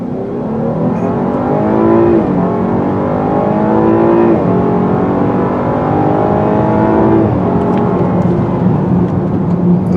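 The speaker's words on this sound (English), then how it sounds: "Let's do a 0 to 60 run. I'm going to put it in all-wheel drive sport mode." A 2019 Chevy Blazer in all-wheel drive sport mode accelerates hard from 0 to 60, its engine note climbing steadily through several gears with distinct drops at each upshift, loud and close from inside the cabin, with no talk.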